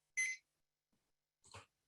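A timer goes off with two short, sharp electronic beeps about a second apart, fairly faint against an otherwise silent room.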